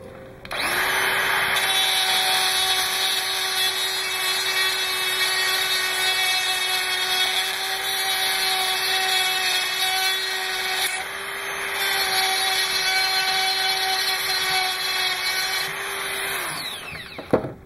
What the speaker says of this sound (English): I got a cutting wheel on here right now.